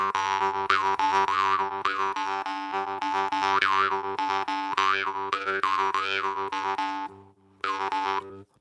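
Jaw harp played in a steady twanging drone with a strong low fundamental and shifting overtone melody, loud and close, pausing briefly near the end before resuming.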